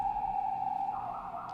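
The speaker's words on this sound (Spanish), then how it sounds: "Ahora está pasando una ambulancia." An ambulance siren sounds faintly from a distance, holding a steady wailing tone that shifts in pitch partway through as it passes, with no voices over it.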